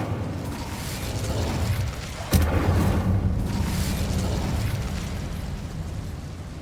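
Incendio fire spell cast in the Hogwarts Legacy video game inside a mine, a sudden whooshing burst of flame followed by a sustained roaring rumble that slowly fades.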